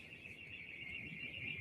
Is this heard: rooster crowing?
no